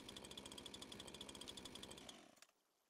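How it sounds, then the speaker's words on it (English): A chainsaw in Animal Crossing: New Horizons Happy Home Paradise buzzes steadily with a rapid, pulsing engine drone for about two seconds, then cuts off abruptly into quiet. "got the chainsaw running."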